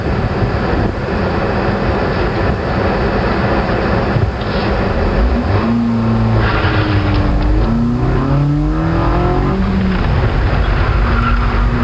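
A front-wheel-drive Nissan runs an SCCA regional autocross course, its engine droning close and loud throughout, rising and falling in pitch as it accelerates and lifts between turns.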